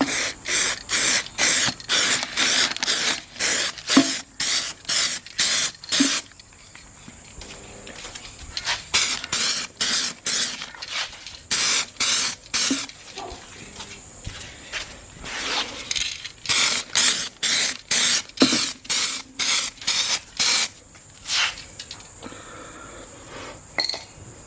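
Gold spray paint hisses from an aerosol can onto taped-up Racingforg wheels for an AE86, in short repeated bursts with brief gaps, close and fairly loud, with no talking.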